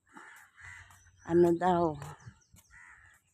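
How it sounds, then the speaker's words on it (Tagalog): Crows caw loudly near a fountain on a walk through Emirates Hills in Dubai, with a couple of harsh, drawn-out calls standing out between bits of nearby talk. "Ang galing naman. Daming uwak."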